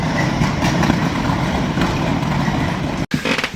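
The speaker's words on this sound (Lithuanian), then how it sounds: "čia konteinerių traukinukas" A container freight train rolls past nearby as a steady, continuous broadband rumble with rail clatter, staying loud throughout before a sudden brief drop near the end.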